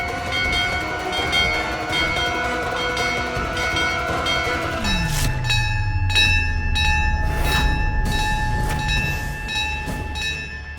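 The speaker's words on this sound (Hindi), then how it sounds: "ये घंटी बजाना बंद कर।" A hand bell rings in a household, its bright, sustained metallic tones carrying continuously across the stretch and staying fairly loud throughout.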